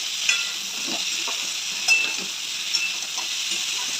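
Food fries in a pan with a bright, even sizzle throughout, while a utensil stirs and scrapes it in a few soft, scattered strokes at close range.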